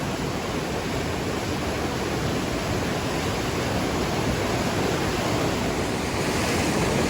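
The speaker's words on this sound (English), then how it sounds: "It's beautiful, beautiful river. Glacier fed, so if you fall in, you're basically dead." A glacier-fed river rushes past in a loud, steady roar of broadband water noise, close and unbroken, with no voices over it.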